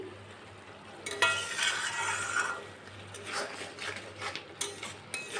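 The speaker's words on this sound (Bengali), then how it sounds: "ভালো করে কষাতে হবে" A spoon stirs and scrapes masala as it sautés in a pan for a country chicken curry, with a steady sizzle and intermittent scraping strokes, close and moderately loud, with no voices.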